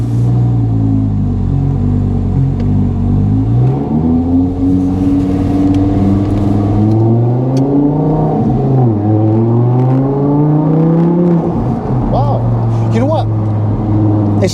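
An Audi R8 convertible supercar engine drones loud and close, its pitch rising and falling as the car accelerates through the gears, with steady wind and road noise throughout.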